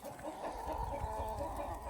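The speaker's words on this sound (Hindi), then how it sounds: "सारी मुर्गियाँ बाहर निकालने लगे हैं।" Several farm chickens clucking steadily as the hens are let out of their coop, a continuous close cluster of soft overlapping clucks with no one talking.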